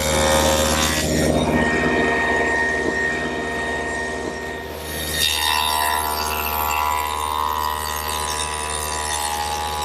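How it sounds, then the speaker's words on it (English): A stacked dado head cutter set for a 1/4-inch width runs on a table saw and cuts a groove into a wood side panel, with a steady whine that shifts as the board feeds through, then the motor spinning on alone. "To make the groove in the side panel, I've set up the stacked dado head cutter again for a 1/4" width"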